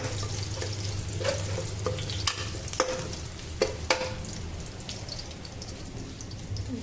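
Garlic frying in hot oil on a Kerala home stove gives a steady low sizzle, broken by scattered sharp crackles and pops. No one speaks over it.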